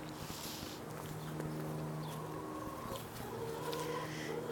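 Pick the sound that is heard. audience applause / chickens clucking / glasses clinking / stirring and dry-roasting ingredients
chickens clucking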